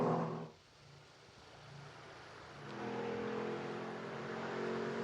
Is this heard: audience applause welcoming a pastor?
no